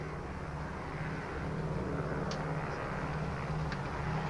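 Inside an airplane cabin, a steady low engine drone fills the background, even and continuous at a faint level, with no voices over it.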